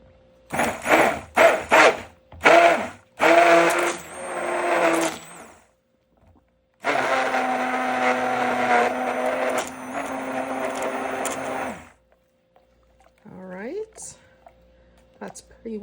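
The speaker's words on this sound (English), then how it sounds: "I'm going to use the stick blender to blend these in nice and uniform." A stick blender whirs through cold process soap batter mixed with bee pollen and oats, first in several short bursts and then in one long steady run of about five seconds, loud and close, with a little handling noise after it stops.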